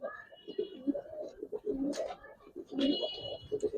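Giribaz pigeons at a loft in Old Dhaka, several soft, close coos repeating in a loose, burbling rhythm over a quiet background.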